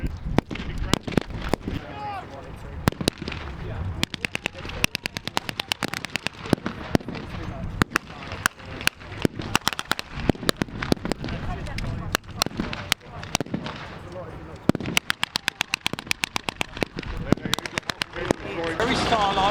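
Machine guns firing during a tank battle display at a military museum event in Dorset, England: rapid sharp bursts and irregular volleys of blank fire, fairly close, continuing throughout with brief gaps.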